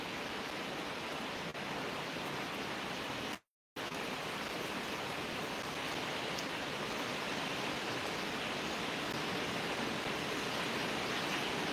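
Steady rain pours down in a dense, even hiss that runs throughout, broken only by a brief moment of silence partway through; no voices are heard.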